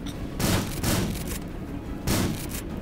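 Gunfire in the combat game RimWorld, heard as several rapid bursts and booming volleys in irregular clusters, fairly loud, with no talking over them.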